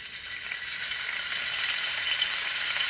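Cooking grease heats in a pan ahead of garlic for Cajun rice, giving a steady, close hiss of sizzling oil that builds slightly and holds alone with no talk.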